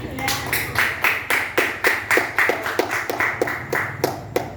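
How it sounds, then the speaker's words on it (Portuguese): Church congregation clapping in a steady, even rhythm of about three claps per second, close and clear, with a faint voice underneath. "se você puder aplaudir o Senhor, vai ser muito bem."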